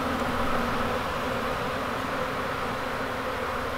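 Honeybees buzzing steadily at an open hive during a frame inspection, a dense, continuous drone that holds close and even from start to finish with no talk over it.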